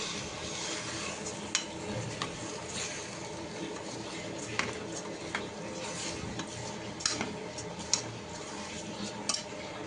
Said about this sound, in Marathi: आता राईस टाकायचा. राईस मी धुवून घेतलेला होता.